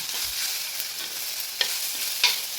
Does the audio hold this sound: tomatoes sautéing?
yes